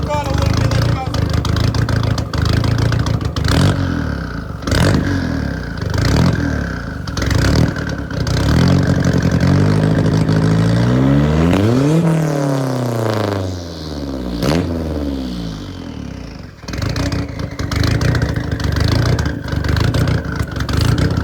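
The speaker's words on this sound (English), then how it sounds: "I know it's running rich at idle." A turbocharged 1990 Nissan 240SX with a KA24E engine idles rich with a loud, rough, uneven throb, revs rising and falling midway, while a person talks over it up close.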